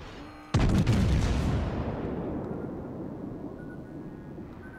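Warship guns roar out in a naval battle video game, a single loud heavy blast followed by a long rumbling decay that fades over several seconds, with no talk.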